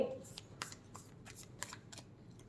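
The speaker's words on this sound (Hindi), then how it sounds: "और लास्ट कार्ड निकालते हैं" Tarot cards are shuffled and drawn in a series of quick, crisp riffles and flicks, close and fairly quiet, with a few separate bursts over a soft background.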